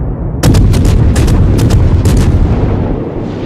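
Naval guns of the cruiser Nueve de Julio fire in World of Warships: a rapid salvo of about seven loud, heavy booms rolls into a continuous rumbling roar that slowly fades.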